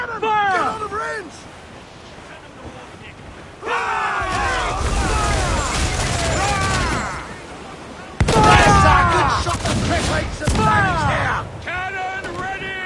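Booming ship cannon blasts and crackling gunfire erupt in several bursts amid shouting voices in Assassin's Creed Black Flag, loud and chaotic with swelling music underneath.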